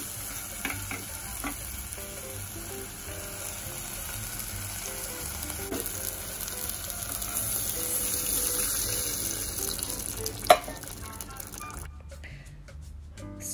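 Ghee and cooked mixed dal sizzle and fry in a pan, with a steady low crackle and occasional scraping stir sounds, close and fairly quiet, ending with a sharp clink and softer room noise.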